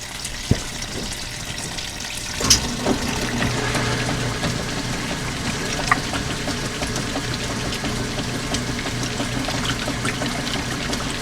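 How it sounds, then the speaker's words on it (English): An old washing machine's drain pump running at a wash-in event, a steady pouring, trickling water flow with a continuous low hum, a sharp clunk early on, then a sustained even gush throughout. "Even the drain pump makes great sounds."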